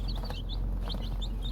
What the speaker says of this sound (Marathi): आणि गावरान पिल्ले आहेत मित्रांनो, प्युअर